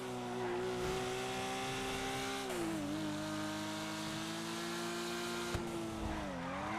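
In a racing video game, a car brakes hard and its tires squeal in long, sweeping tones as the engine pitch drops and rises. The sound is loud and continuous, with no talk over it.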